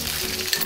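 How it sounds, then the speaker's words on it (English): Ginger and garlic sizzle steadily in a hot pan for a short moment, a close, bright frying hiss with a faint clink and no voices. "get the ginger garlic in. Let it sit there for a couple of minutes. Don't overburn it."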